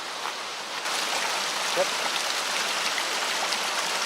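A cascading waterfall at a river crossing gives a steady, broad rushing wash of water, constant and fairly close, with a brief word spoken over it.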